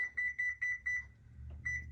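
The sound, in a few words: timer beeping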